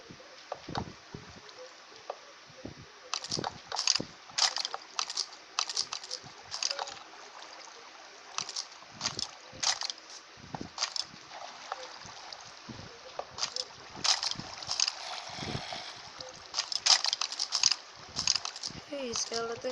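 Flowing, trickling water in a video game pool built in a quartz house, heard as a steady wash with frequent short splashy blips and gurgles, with a voice talking over it.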